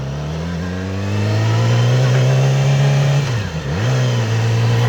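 A 2019 Yamaha R6 sport motorcycle engine revs loudly while riding, a strong droning tone rising in pitch, then dipping sharply during a shift before climbing again, close and continuous.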